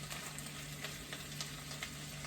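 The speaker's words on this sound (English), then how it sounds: "I can kind of hear them sizzling and popping a little bit" Green beans sizzle quietly in a pan with soft crackles and occasional small pops, faint and steady throughout.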